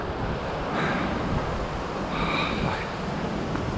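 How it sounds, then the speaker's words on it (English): Wind on the Isle of Wight coast near Ventnor buffets the microphone with a steady broadband rush and low rumble, constant throughout with faint higher tones drifting in. "Quite windy."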